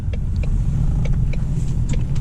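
A car engine, a teenager's first car, revs and rumbles steadily and loud close by, a continuous low drone with no talk over it.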